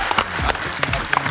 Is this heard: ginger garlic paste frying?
no